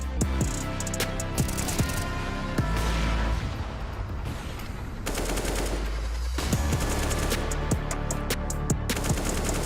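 Rapid gunfire crackles through a Counter-Strike esports match between FaZe and MIBR, with dense automatic bursts and single shots repeating across the whole stretch, loud and close.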